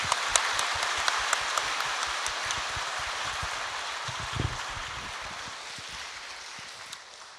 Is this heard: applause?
yes